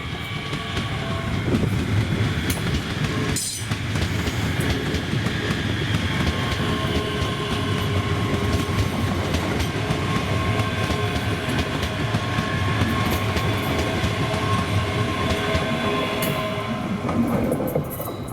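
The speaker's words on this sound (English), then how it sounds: "the 1634 ScotRail service to Edinburgh from North Berwick with 385025 and 385005" A ScotRail class 385 pair, 385025 and 385005, passes through Drem on the North Berwick to Edinburgh service. It makes a loud, steady rail rumble with wheel and carriage noise that lasts the whole stretch, with no talking.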